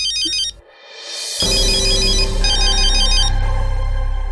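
A phone ringtone trills in repeated electronic bursts, loud and close, joined by a dense musical tone that swells and carries on to the end.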